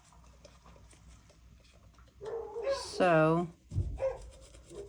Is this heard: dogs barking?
yes